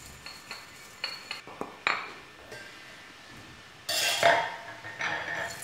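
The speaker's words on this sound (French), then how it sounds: "Les graines de cumin s'écrasent facilement lorsqu'elles sont torréfiées" Toasted cumin seeds crushed with a pestle in a mortar: a few sharp, close knocks and clinks, then louder gritty grinding bursts toward the end, with no talking.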